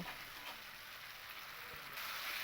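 Spice paste sautéing with green peas in a pan gives off a steady, even hiss and sizzle that runs through the whole stretch and brightens slightly toward the end.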